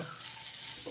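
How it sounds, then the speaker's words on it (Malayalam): Chili powder and turmeric frying in coconut oil in a pan give a steady, close sizzle for about a second, with no talk. "മുളമ്പൊടി കറിയുന്നുണ്ട്"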